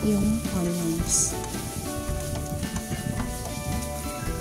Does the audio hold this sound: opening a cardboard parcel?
no